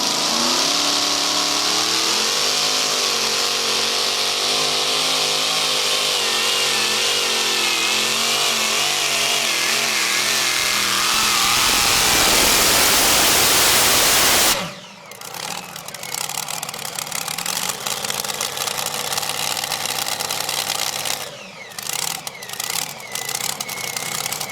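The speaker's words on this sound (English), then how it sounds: "Out here now with the Critical Air, Blown Big Rock Chevrolet tractor out of Boonesboro, Maryland." A blown Big Rock Chevrolet pulling tractor from Boonesboro, Maryland roars at a truck and tractor pull, the engine climbing through a long loud rev, then cutting sharply and snapping back through rough bursts and revs.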